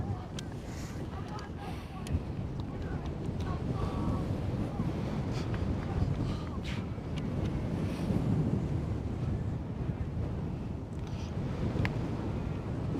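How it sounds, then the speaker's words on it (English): Strong wind blows across a baseball field during a varsity game, a steady rough rumble of gusts buffeting the microphone, with faint voices underneath. "This wind is pretty special right now, Tyler."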